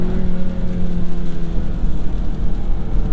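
A 2022 Audi A3 with quattro all-wheel drive, in dynamic mode and a low gear, pulls hard around a wet corner, its engine a loud, steady droning hum with a rising tone and road noise beneath.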